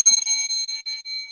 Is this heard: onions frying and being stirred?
no